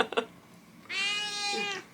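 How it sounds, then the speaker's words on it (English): A cat gives one drawn-out, clear meow close by, heard on its own after a few faint earlier sounds. "there's a cat right in front of me"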